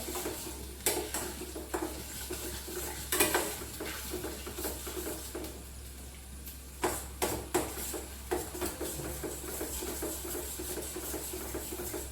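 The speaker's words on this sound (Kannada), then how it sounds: "ಆಯಿಲಲ್ಲೇ ಫ್ರೈ ಮಾಡ್ತೇನೆ ಸ್ವಲ್ಪ ಹೊತ್ತು" Prawn masala fries in hot oil, a soft sizzle broken by a spoon scraping and clinking against the pan at irregular moments. A low steady hum sits underneath, and no one talks.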